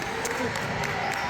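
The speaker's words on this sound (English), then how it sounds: "Why are we clapping?" A crowd at a youth basketball game claps steadily amid general hubbub, with voices in the background.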